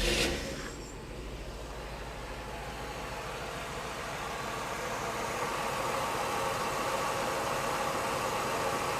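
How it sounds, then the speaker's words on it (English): A 1967 V8 car with factory dual exhaust and resonators starts cold with a short crank burst, then settles into a quiet, even fast idle that hums steadily throughout. "I'll start it up now. You can hear it. It is cold, so the fast idle will be on."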